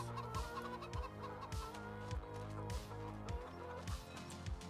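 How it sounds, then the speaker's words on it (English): Chickens cluck continuously in Farming Simulator 25, a soft, steady farmyard murmur with rhythmic game sound underneath and no voices. "We feed our chickens very well."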